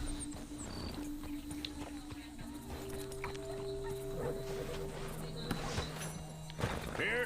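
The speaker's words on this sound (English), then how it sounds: "Oh, mas que cavalo bonito esse aqui, hein, velho." Horse walking in the video game Red Dead Redemption 2, soft hoof clip-clops under a continuous ambient game soundscape with tonal background music and occasional talk.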